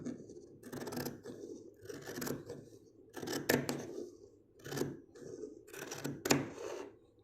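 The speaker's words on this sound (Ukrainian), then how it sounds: "Нижнє лезо ножиць не відривається від поверхні стола." Fabric being cut with scissors whose lower blade stays on a tabletop, a run of crisp snipping and scraping strokes in irregular bursts, close and clear with no voices.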